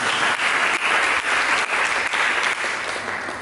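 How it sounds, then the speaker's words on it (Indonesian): A church congregation bursts into steady, full applause, a dense wash of many hands clapping together with light rhythmic swells throughout. "Berikan tepuk tangan."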